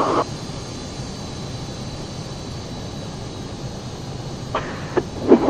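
A Philippine Airlines jet idling before takeoff in the FS9/FSX flight simulator, a steady broadband engine roar with a few short clicks and blips near the end.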